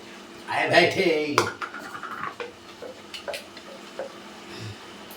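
Country chicken salt curry being stirred in a pot, with a loud scrape and clatter of a metal spoon against the vessel at first, then lighter knocks and clinks as the stirring continues.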